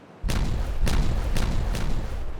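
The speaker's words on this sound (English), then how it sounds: "We may as well detonate this dynamite here." Dynamite detonating in a city-building video game, four booming blasts in quick succession over a low continuous rumble, loud and close.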